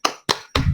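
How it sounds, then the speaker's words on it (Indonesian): Students in a classroom clap a few times, three sharp, separate claps close by, the last one running into a brief patter. "beri tepuk tangan"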